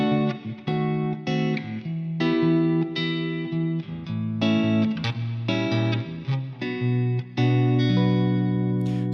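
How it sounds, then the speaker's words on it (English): Guitar plays a chord progression with diminished chords added, strummed and picked chords changing every second or so, loud, continuous and unaccompanied. "if I play the whole progression with the diminished chords added"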